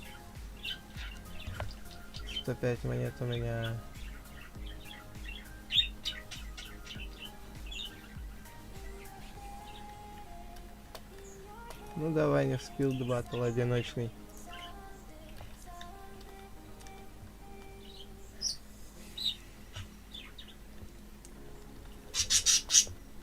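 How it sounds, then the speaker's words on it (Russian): A pet parrot squawks loudly indoors during a game stream, letting out a few sharp bursts of harsh calls. A person talks throughout, with the squawks rising over the voice. "попугай опять разорался"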